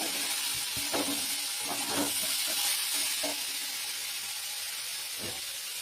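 Green chilies sizzling in a pan for chana tadka, a steady loud hiss with a few soft crackles and pan knocks in the first half, continuous and close, no talk.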